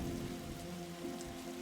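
Steady rain falls in a detective adventure video game, a continuous even patter holding at a constant level throughout with no voices over it.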